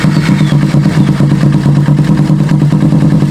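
A Kawasaki Ninja 250 that sputters and lacks power is running steadily at idle nearby, giving a loud, continuous engine drone with a fast, even pulse. No starting is heard.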